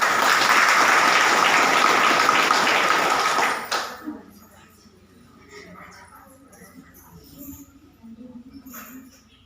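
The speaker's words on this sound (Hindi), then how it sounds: "दुलाल जी मुखर्जी जी के सम्मान में एक बार जोरदार ताली बजाएंगे आप लोग" An audience at a women's empowerment trust meeting claps loudly in honour of the founder, a dense burst of applause that stops abruptly after about four seconds, leaving quiet room noise and faint movement.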